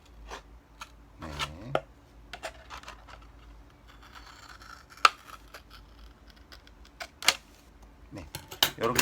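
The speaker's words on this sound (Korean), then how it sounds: "가위를 이용해서 여기도" Scissors snip through a plastic PET bottle in a series of short, sharp cuts with brief pauses between them, crisp and close, while a person speaks quietly in between.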